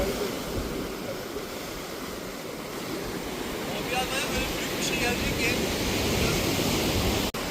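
Steady wind roars and buffets across the microphone throughout, with a rushing, surf-like broadband noise that swells slightly toward the end, on the coast at San Diego, California.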